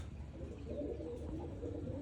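A pigeon coos softly nearby, a low throaty burbling call rising and falling over a quiet background.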